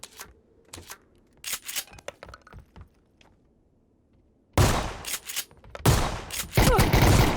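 Pump-action shotgun blasts in a PUBG match: sparse sharp reports at first, then loud, dense booming shots in quick succession near the end, with no talk.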